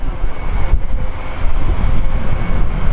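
An Airbus A350 airliner flies past at the Farnborough Airshow, its jet engines making a loud, steady low roar that fills the whole stretch with no talk.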